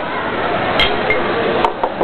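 Glasses clink together in a toast, with two or three bright, sharp taps over a loud, steady background of a casual gathering.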